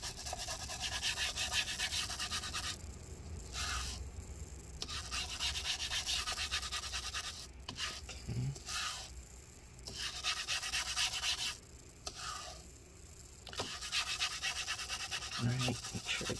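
A toothbrush scrubs rubbing alcohol over adhesive residue inside a Late 2016 15-inch MacBook Pro A1707, repeated close, rhythmic scratchy rubbing strokes with short pauses between bursts.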